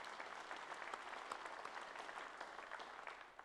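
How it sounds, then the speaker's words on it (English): Faint but continuous audience applause at a trade union industry day gathering, an even crackle of many hands clapping for several seconds, heard from a distance. "That does deserve a round of applause."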